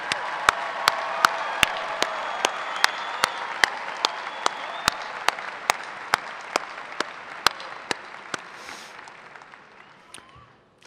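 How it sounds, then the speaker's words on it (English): A large audience applauds graduates at a commencement ceremony held in a hall, steady sustained clapping across the whole stretch with sharp individual claps standing out, tapering off near the end. "let's have a huge round of applause for your accomplishment"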